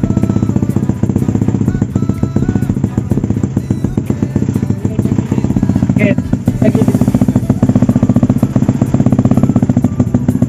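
A 220cc motorcycle engine runs steadily and loud nearby for the whole stretch, with a dense rhythmic throb, light mechanical clatter and a short rise in intensity midway.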